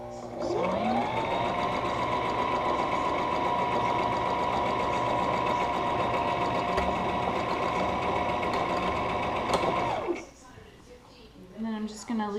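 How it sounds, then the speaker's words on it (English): A sewing machine runs steadily for about ten seconds stitching back and forth along the edges of a fabric face mask, a close, continuous mechanical whir that stops abruptly before a voice begins. "I'm just going to do a little bit back and forth at the edges to reinforce the sewing."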